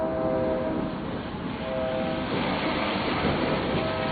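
A train passes during a thunderstorm in Canyon, Texas, sounding a sustained horn in long, repeated blasts over a steady rumbling wash of rolling wheels, heard from a distance with no talking.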